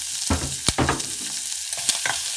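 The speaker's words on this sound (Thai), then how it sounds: "จากนั้นก็ใส่หอมใหญ่นะคะลงไปผัด" Chopped onion stir-fried in a pan with bacon and butter, hissing and sizzling in bursts as a utensil scrapes and tosses it, close and fairly loud with no voice.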